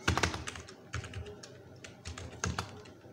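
Typing on a computer keyboard into a browser search bar: short bursts of crisp key taps close to the mic, with brief pauses between bursts and no talk.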